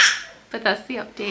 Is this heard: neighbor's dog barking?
yes